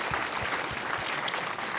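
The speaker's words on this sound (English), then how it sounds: "Yeah, clap it up" Clapping during a talk-show conversation, a brisk, continuous crackle of hands with a few louder low thumps mixed in, moderately loud and brief.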